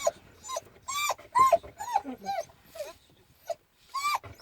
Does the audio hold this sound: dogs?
yes